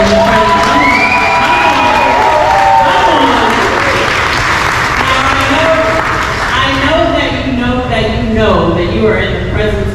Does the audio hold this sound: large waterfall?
no